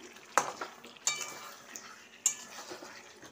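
A spoon stirs salted curry in a pot, scraping and clinking against the metal in a few distinct strokes, with a faint sizzle underneath.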